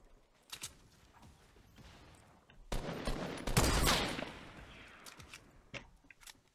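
Rapid gunfire in a Fortnite Battle Royale match, a burst of shots building to a loud, dense volley in the middle, then scattered single shots trailing off.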